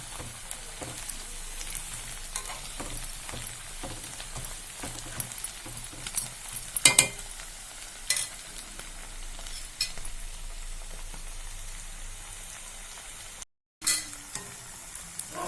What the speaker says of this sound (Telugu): చూడండి ఎంత మంచిగా డీప్ ఫ్రై అవుతున్నాయో